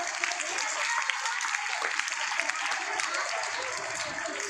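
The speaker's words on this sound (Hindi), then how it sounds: "आपकी जोरदार तालियों।" Applause from an audience at a children's mushaira held in an Urdu high school, a dense steady patter of many hands clapping close by for several seconds, with some voices mixed in.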